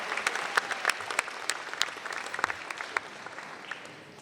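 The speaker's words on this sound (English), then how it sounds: "Round of applause for the ROTC." Audience members at a county Teacher of the Year ceremony applaud the ROTC, a moderate burst of many hands clapping with distinct sharp claps standing out and fading slightly toward the end.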